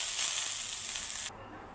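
Moringa leaves fry in a pan with a steady, bright sizzling hiss that cuts off abruptly partway through, leaving a faint quiet background.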